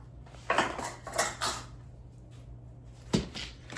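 Utensil scraping and clinking against a jar while scooping creamy peanut butter for energy balls in a home kitchen, several close scrapes in a loose rhythm, then a pause and one more sharp clink.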